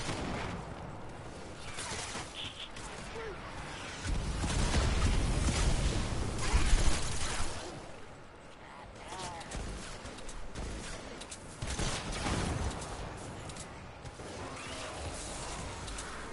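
Sniper rifle gunfire in the video game Fortnite, with a few loud, booming shots and crashes ringing out over a busy battle soundscape.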